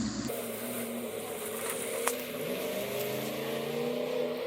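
A vehicle drives along a beach on a Sunday morning, its engine humming steadily and close, with a low revving drone and wind rumble throughout and no talking.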